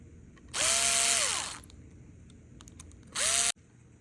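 An electric screwdriver drives screws to mount a Traxxas brushless ESC on a TRX-4M crawler in two close, loud whirring bursts, each rising in pitch and then winding down, with quiet handling clicks between them.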